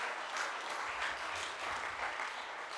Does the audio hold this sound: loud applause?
yes